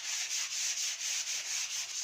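Fine number 150 sandpaper is rubbed across wood in quick, regular back-and-forth strokes, a close, steady rasping scrape that pulses about every quarter second, with no talking.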